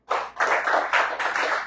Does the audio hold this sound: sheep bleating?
no